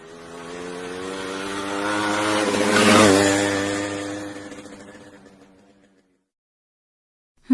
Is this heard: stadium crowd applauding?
no